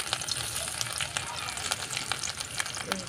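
Chopped garlic fries in a pan with a constant close sizzle, crackling and popping throughout, punctuated by quick spatter bursts; no voice is heard.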